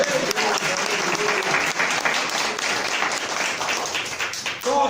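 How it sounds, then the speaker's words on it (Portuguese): Church congregation applauding during a workers' seminar, a dense, steady wash of clapping filling the room for the full stretch, with faint voices mixed in. "Quem pode aplaudir o nome de Jesus agora?"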